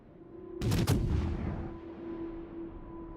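Naval gunfire in a warship battle game, a heavy double boom from the ship's big guns that rolls away slowly, with a steady engine hum underneath.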